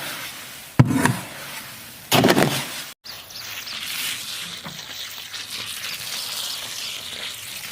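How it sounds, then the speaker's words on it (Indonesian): Cement and pebbles are mixed by hand for a black and white pool pebble wash: gritty scraping and rattling, loud and close, comes in two short bursts before a quieter ongoing shuffling texture. "Kita campur, kita bolak-balikkan berkali-kali biar antara semen dan batu itu tercampur"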